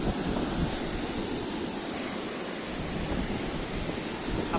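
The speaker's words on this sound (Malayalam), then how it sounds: "അപ്പോൾ ഈ സ്പിൽവേ കൂടെ വെള്ളം വീഴുമ്പോൾ ഇങ്ങനെ തന്നെ." Water pouring over the spillway of Chimmony dam in Thrissur, a steady broadband rushing roar, continuous and fairly loud, with no voices over it.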